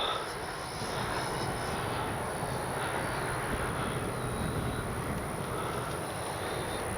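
A Freewing 70mm F9F-5 Panther RC jet whooshes steadily overhead outdoors, its ducted-fan roar holding a constant broad hiss with a faint high whine throughout.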